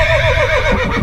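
A horse neighs loudly in a cartoon, one long wavering whinny close and alone, held across the whole moment over a low rumble.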